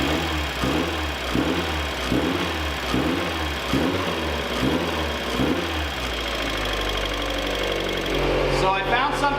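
A Mazda Miata with a swapped-in 1.8 engine runs close by, its revs rising and falling in a steady repeating bounce for most of the stretch before settling into a lower, steadier note, with a brief higher-pitched whine near the end.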